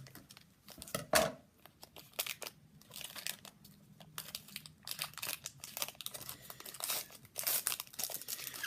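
Packs of Topps UFC Chronicles 2015 trading cards are cut open, with close crinkling wrapper foil and sharp snips in an irregular, busy run.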